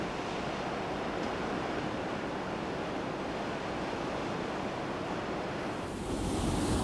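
Ocean waves breaking along the rocky Oregon coast make a steady, full roar of surf that swells slightly louder near the end, with no voices.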